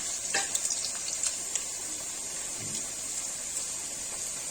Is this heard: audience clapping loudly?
no